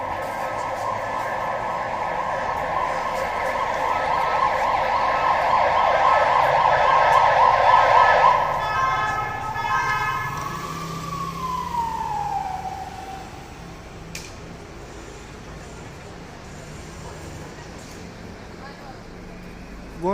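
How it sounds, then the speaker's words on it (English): Emergency vehicle sirens wail steadily on Barcelona's Rambla de Catalunya, then the pitch sweeps up and falls away as the vehicles stop, leaving quiet street ambience. "Things with sirens, some kind of thing with sirens."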